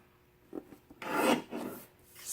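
A pale blue paper card panel is trimmed in a long rasping stroke after a couple of soft taps, a close, brief scraping cut that swells and fades without any voices.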